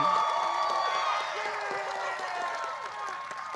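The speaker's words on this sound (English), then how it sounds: "Let's give Juliana a round of applause" An audience at a White House teacher-of-the-year ceremony claps and cheers in a sustained round of applause, with scattered whoops over the dense clapping, fading gradually.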